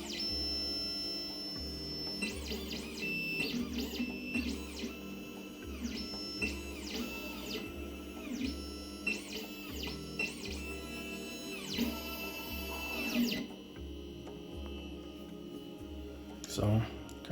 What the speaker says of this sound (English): So calibration height complete. It's a machine test.